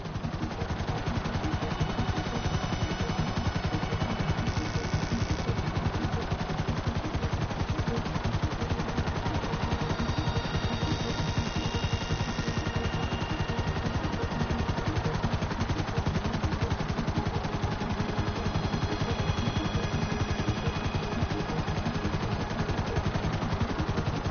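Continuous automatic gunfire from Grand Theft Auto 5, dense, steady shooting fired downward from above, loud and unbroken throughout with a constant roar of engine or rotor noise beneath.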